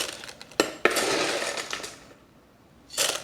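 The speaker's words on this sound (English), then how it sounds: "Let me start by filling a layer of LECA in here." LECA clay pebbles pour into an orchid pot, giving a couple of sharp clinks and then a dense, rattling cascade of small hard pebbles, a quiet pause, and a final short rattling pour.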